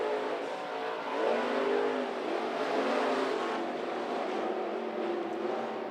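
A sprint car races on the Monarch Motor Speedway oval in a Texas Sprint Series event, engine roaring at a distance as a steady loud drone that swells slightly while passing, with crowd and track ambience beneath.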